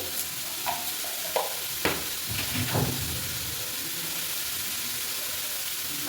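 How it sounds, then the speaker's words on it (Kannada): Mustard seeds splutter in hot oil in a cooker, crackling over a steady sizzle. A few distinct pops land about every half second early on, then the crackle fades into a faint hiss with no one talking. "ಈ ಸಾಸಿವೆ ಚಿಟಪಟ ಅಂತ ಇದೆ"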